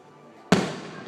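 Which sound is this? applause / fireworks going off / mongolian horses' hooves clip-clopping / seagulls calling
fireworks going off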